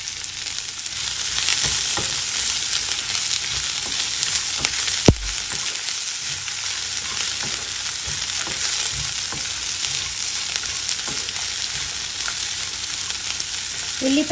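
Thinly sliced onion and chopped ginger frying in a pan for tomato mint chutney, giving a loud, continuous close sizzle with occasional light stirring scrapes and one sharp knock, no voices.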